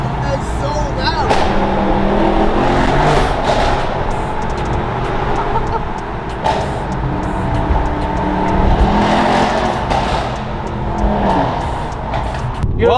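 Mercedes E63S with valved exhaust, a loud continuous engine roar and exhaust rumble rising and falling as it accelerates up close, with people talking over it.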